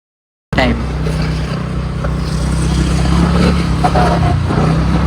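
A vehicle engine starts up suddenly and runs with a steady low rumble, close by, slightly rising as it pulls away.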